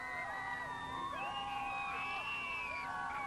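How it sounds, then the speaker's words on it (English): Crowd cheers and whoops for Pope John Paul II at a farewell ceremony at Lambert International Airport, a steady wash of distant voices with shouts rising and falling throughout, no single voice standing out. "We're hearing the crowds now."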